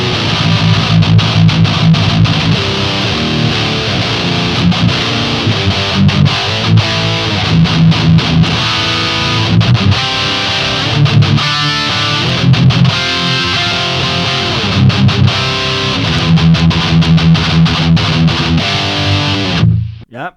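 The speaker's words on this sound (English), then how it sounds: "Let's try the Marshall cab with the Diesel Herbert." A heavily distorted high-gain metal guitar plays chugging riffs through a ToneX capture of a Diesel Herbert amp with a Marshall cab, loud and continuous before cutting off abruptly at the end.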